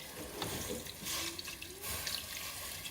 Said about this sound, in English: I'm going to be adding a cup of water